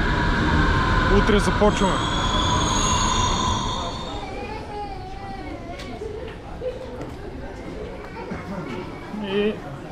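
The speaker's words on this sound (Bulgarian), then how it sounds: "ще пътуваме с метрото" A Berlin subway train hums and rumbles as the carriage rides along, with children's voices chattering nearby and a brief spoken line over the din.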